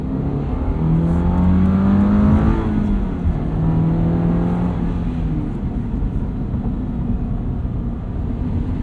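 A 2022 Subaru BRZ accelerates hard on a snowy road, its engine note rising through two strong pulls before settling into a steady, loud drone, with no voices.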